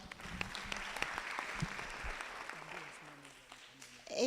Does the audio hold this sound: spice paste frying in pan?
no